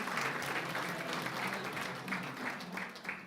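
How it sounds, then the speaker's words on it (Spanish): A church congregation applauds during a city church meeting, steady continuous clapping from a gathered crowd, heard somewhat distant and soft throughout. "Démosle un fuerte aplauso al Señor."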